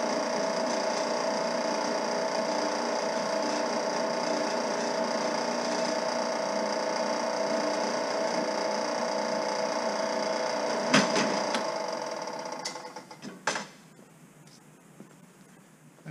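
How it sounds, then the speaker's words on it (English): An air-powered countersink tool dressing number 40 rivet holes in an aluminum stringer for an RV-14A aircraft build, a steady whining drone running close and loud for about eleven seconds before winding down and stopping. "So all the number 40 holes is going to be machine countersink sunk"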